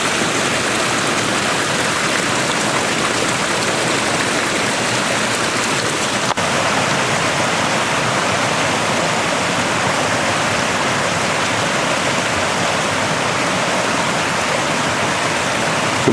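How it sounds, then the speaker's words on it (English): A small feeder creek flows beside a hiking trail on its way down toward Lake Peltier, giving a steady, close, full rush of running water that holds constant throughout with no voices. "Some more of the little feeder creek I'm following up."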